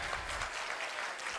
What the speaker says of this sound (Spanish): Un aplauso para Henry.